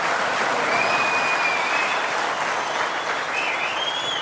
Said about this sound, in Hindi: जनता का ट्रस्ट भी है, तालियों से साफ साफ पता चल रहा है।